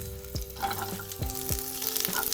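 Onion sautéing in hot oil with garlic cloves for matar paneer, a steady sizzle with several spoon scrapes and stirring knocks against the pan, close and without talk.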